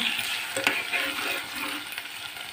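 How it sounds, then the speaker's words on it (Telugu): Raw prawns sizzle in a pan of fried onion, a steady hissing fry with a few small clinks near the start. "ఆనియన్ వేగిపోయిందండి. ఇప్పుడు రొయ్యలు వేసుకుందాం."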